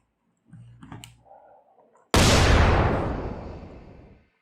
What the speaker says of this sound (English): Let's do another explosion